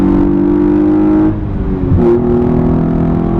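The 3.8L V6 engine of a 2014 Hyundai Genesis Coupe revs and accelerates hard, loud, its steady harmonic drone climbing and dipping briefly before pulling strongly again, close by.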